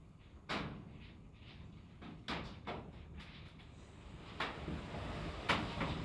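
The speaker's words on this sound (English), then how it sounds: "my door blew shut" A workshop door blows shut during floor joist construction, landing a dull thud among several irregular knocks and rattles, heard from a moderate distance against quiet background noise with no talking.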